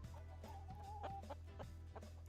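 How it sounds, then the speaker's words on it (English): Several chickens and roosters cluck and call near the player in the farming video game Dinkum, a busy overlapping flock chatter over a steady low hum, with no talking. "That's a lot of roosters in one spot."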